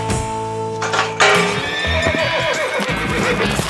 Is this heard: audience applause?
no